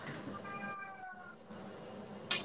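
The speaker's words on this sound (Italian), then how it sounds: "Povero gatto." A cat meows twice in a kitchen, one clear drawn-out call followed by a shorter one, faint against low room noise.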